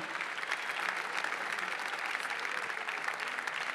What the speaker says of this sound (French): Voilà, on peut tous encore une fois les applaudir.